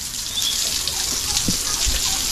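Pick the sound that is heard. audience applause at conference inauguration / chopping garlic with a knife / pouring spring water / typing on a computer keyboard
pouring spring water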